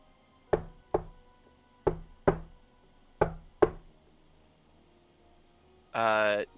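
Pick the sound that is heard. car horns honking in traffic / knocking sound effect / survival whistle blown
knocking sound effect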